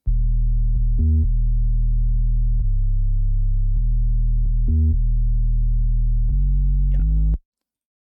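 A steady synth sine wave with added harmonics holds sustained notes that shift pitch every second or so, with brief higher blips, then cuts off abruptly.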